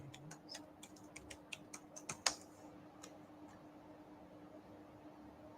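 Quick, light key clicks of a password being entered on a computer keyboard, a short burst of about a dozen taps with one firmer press near the end, then quiet room hum.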